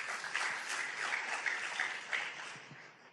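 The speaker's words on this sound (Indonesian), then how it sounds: "Berikan tepuk tangan buat dia." A church congregation claps in a sustained round of applause after a sermon segment, a dense, even patter of many hands that fades slightly toward the end.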